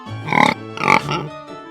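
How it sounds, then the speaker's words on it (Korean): Loud, close oinking from a baby pig: two strong grunting snorts followed by a softer trailing grunt. "졸리다고 꿀꿀꿀"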